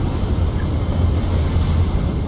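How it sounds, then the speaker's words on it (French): Wind in the Hogwarts Legacy video game, a low, steady rumbling gust with a faint airy wash above it, continuous and moderately loud throughout. "Ah bah si, il y a du vent là."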